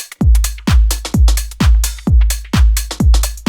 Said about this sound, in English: And with the clap and snare.